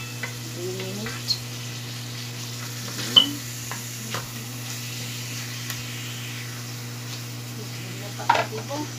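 Pomfret fish fries in a pan with a low, steady sizzle under a constant hum, with occasional soft clinks and stirring scrapes close by.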